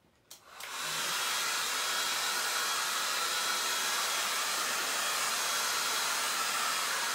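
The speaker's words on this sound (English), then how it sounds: "I'm going to blow dry it one more time," Hair dryer blowing on freshly painted furniture after layered Dixie Belle paint and wet distressing, starting abruptly after a brief click and then a steady, loud, close broadband whoosh that continues unbroken to the end.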